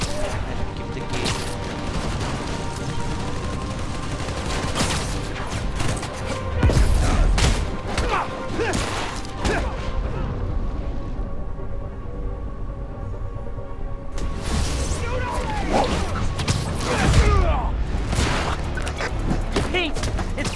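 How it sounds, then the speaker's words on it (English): Gunfire in a video game shootout between police and escapees: a long stretch of scattered, irregular shots and thuds, with a quieter lull midway before heavy firing resumes. "Police and escapees are shooting it out."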